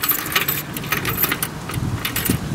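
A bunch of keys for a Rambler American car jangles and clinks nearby in a few brisk metallic bursts, with no one speaking.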